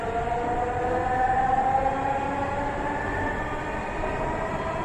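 A Dhaka metro rail train runs with a loud, steady rumble and a sustained tonal whine layered over it, heard from inside the carriage with no talk.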